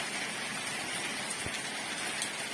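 A heavy summer downpour pours from a small cloud in a steady, dense outdoor hiss with a few louder drips and splashes, and no voices.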